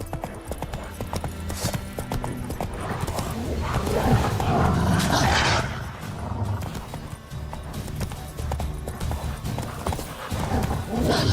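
Hoofbeats of the horse Roach galloping in The Witcher 3, a steady clip-clop rhythm close and loud throughout, with a brief whinny and occasional shouted voice over the game's ambience.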